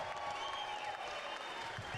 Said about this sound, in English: Applause for both of the fighters in this ring